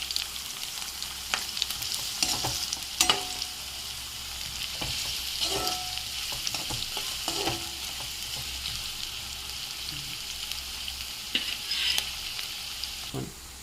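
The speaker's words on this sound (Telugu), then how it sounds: "గోల్డెన్ కలర్లోకి వచ్చే వరకు కలియబెట్టాలన్నమాట" Paneer, mint and rice ingredients sizzle and fry steadily in a pan while a spoon stirs them, scraping and clinking at irregular intervals over a continuous close crackle.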